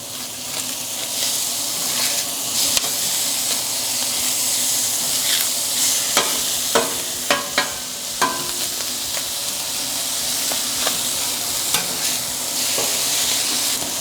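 Food sizzles steadily on a Napoleon griddle top while a beveled-edge spatula scrapes and flips it, sharp metal scrapes and taps breaking through the constant close hiss.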